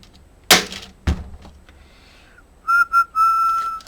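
A person whistles a few short notes and then a longer held tone, alone at close range, coming after a couple of sharp knocks.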